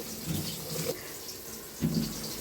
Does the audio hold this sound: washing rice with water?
yes